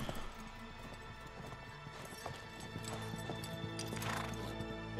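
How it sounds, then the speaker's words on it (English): Horses in the video game Uncharted 3 galloping with rhythmic clip-clop hoofbeats and a whinny, over a busy background of game sounds and low rumble. "There comes the horses."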